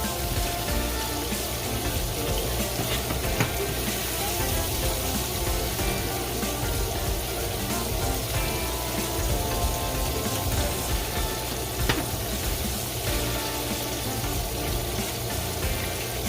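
Shrimp deep-frying in oil produce a dense, continuous rain-like crackle and hiss that holds steady and close for the whole stretch, without talk.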